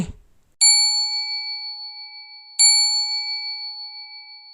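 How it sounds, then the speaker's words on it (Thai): A bell rings twice, two bright, clear strikes about two seconds apart, each leaving a long, shimmering tone that slowly fades. "ได้ยินเสียงระฆังสวรรค์แล้ว"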